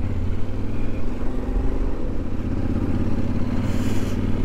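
A Yamaha Ténéré 700 rides off-road on a rocky mountain track near Mont-Blanc, its steady engine drone and clattering near and continuous throughout.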